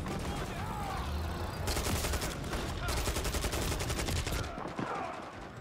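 Gunfire in the video game Modern Warfare 3, dense bursts of shots and rapid fire running nearly continuously and loudly, with a brief lull near the end.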